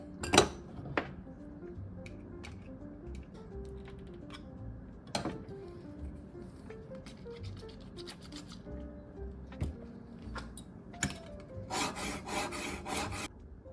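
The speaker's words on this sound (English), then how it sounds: "Now I switched to a 1200 grit diamond stone, and I got the edge highly polished." Stanley #4 Bailey plane iron being sharpened on a 1200 grit diamond stone, with steady scraping rasps and scattered metallic clicks and knocks, close and alone, ending in a brief burst of louder hiss.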